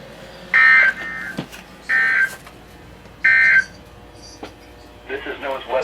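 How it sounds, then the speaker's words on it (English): NOAA weather radio severe weather alarm tone sounds as three loud, harsh two-tone beeps in a row, with a broadcast voice speaking between and after them. "This station will broadcast severe weather alarm tones for Winnebago."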